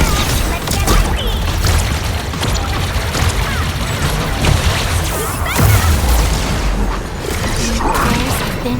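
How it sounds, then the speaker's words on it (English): Fireworks explode in the video game Arknights Endfield, a dense, loud barrage of booms, pops and crackling bursts that runs without a break, with faint voices and game sounds underneath. "Fireworks for you!"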